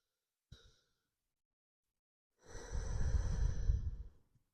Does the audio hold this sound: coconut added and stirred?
no